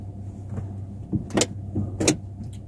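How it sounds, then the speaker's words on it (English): Inside a minivan, a few mechanical clunks and ratcheting clicks from the parking brake being released, sharp and close over a low steady engine idle. "You're going to release the parking brake now."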